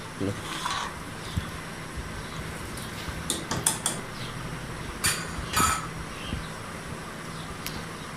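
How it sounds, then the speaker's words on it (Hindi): Dal lentils are stirred in a cooking pot in a village kitchen, giving intermittent metallic clinks and scrapes of a spoon against the pot, clustered in short bursts over a steady background hiss. "दाल को अच्छे तरीके से मिक्स कर लेंगे"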